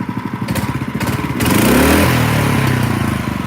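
A motorcycle engine idles at its lowest idle setting, a steady low putter that swells slightly louder midway, close by with no talking.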